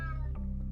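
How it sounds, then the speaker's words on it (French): A cat in the video game Unmetal gives one short, loud, harmonic meow that drops in pitch at the end. "Damn cat."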